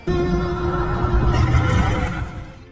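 A racehorse lets out a long, loud neigh in a 1920s Birmingham setting, a sustained harmonic whinny lasting over two seconds that tapers off at the end, with voices mixed in underneath.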